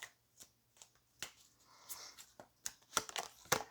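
Tarot cards being shuffled by hand, soft irregular riffling and slapping taps that grow quicker and louder toward the end, close and otherwise quiet.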